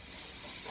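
Onions and carrots frying in a pan, a steady close sizzling hiss that runs evenly through the whole short moment with no voices.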